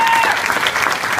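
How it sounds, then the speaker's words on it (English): Audience at a film Q&A with actors bursts into loud, dense applause, a continuous close wash of clapping with no gaps, heard on its own. "So let's give him a round of applause."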